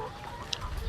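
Laying hens in their coop giving a few soft clucks at close range, with a brief higher squawk in the middle over a low, steady background.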